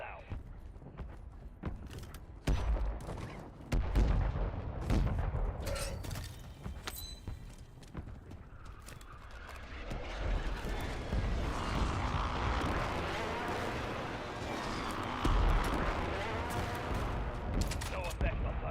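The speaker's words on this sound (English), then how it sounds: "Mortar strike inbound now." Mortar strike explosions land in Call of Duty Warzone as repeated heavy blasts and sharp cracks, building into a dense, continuous rumble of impacts with scattered gunfire throughout.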